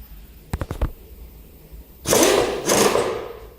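A milling machine cuts into metal, first a few short sharp knocks, then a loud broadband grinding roar that sets in and holds for over a second, with a second surge of cutting close by.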